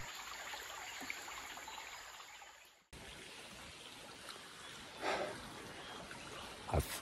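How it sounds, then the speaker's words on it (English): Small natural stream in Kaeng Krachan National Park, Thailand, a faint steady trickle and burble of flowing water close by, with a brief break partway through and a few soft splashes later. "I've come back to this little stream here."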